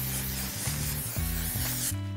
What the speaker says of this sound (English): we're gonna go ahead and spray some texturizing volume spray